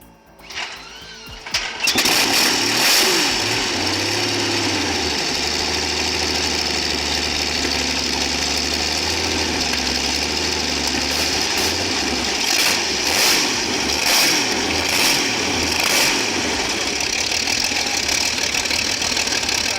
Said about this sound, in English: This is the engine that powered the legendary Tiger.